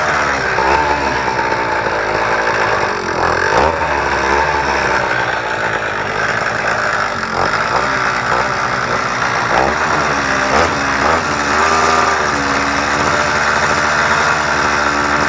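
A motorized BMX bike's small engine runs steadily with a new exhaust fitted, giving a loud, continuous buzzing drone with slight revving fluctuations throughout, close to the listener and without speech.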